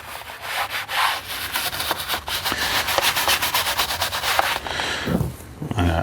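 A brush scrubs cleaner into porous plastic trim on a C7 Corvette, making a loud, fast, rhythmic rubbing sound that goes on without a break. It fades near the end.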